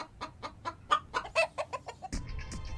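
A woman imitates a chicken with a rapid series of rhythmic clucks, close and clear, ending in a longer squawking cackle.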